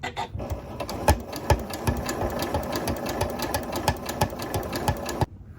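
A sewing machine runs steadily while stitching bias binding over the flat felled shoulder seam of a camp shirt sewn from a lace tablecloth. Its rapid, even needle rhythm stays close and clear for about five seconds, then stops abruptly.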